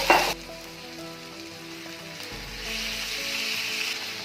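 Boneless chicken fries in a pan with a soft, steady sizzle that swells a little toward the end, after a brief clatter at the start, with no voices.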